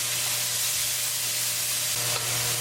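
Tadka of onion and tomato puree sizzles steadily in a pan, a close, continuous hiss with a faint stir partway through and no talking.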